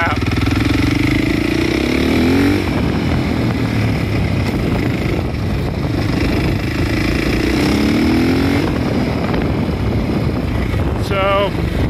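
A KTM or Husky motorcycle engine with a worn, failing fuel pump and low fuel pressure runs steadily and loudly up close, its drone wavering and surging unevenly for the whole stretch.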